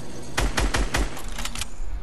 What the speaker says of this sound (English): He just got sniped.